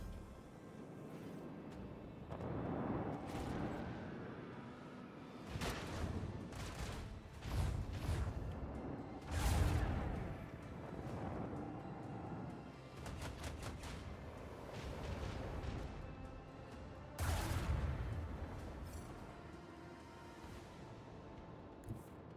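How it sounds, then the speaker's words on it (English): Macro cannons fire aboard a starship in the video game Rogue Trader as a series of deep booming blasts and rumbling volleys spread across the stretch, moderately loud with no talk. "Engage the macro cannons."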